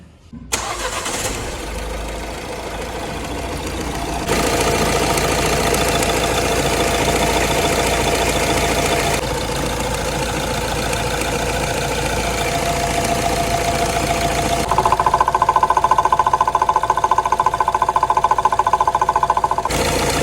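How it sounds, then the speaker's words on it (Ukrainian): A 2016 Peugeot 508 RXH 2.0 HDi diesel engine cranks and catches, then settles into a steady, slightly knocking idle that shifts in pitch a couple of times; no talking. "Заводиться автомобіль."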